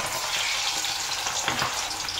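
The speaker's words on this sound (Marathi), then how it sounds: "ते बटाटे आपण आता फ्राय करून घेणार आहोत" Boiled potatoes frying in oil in a wok over a low flame, a dense, loud, continuous hiss of sizzling oil with a few faint stirring knocks and no voices.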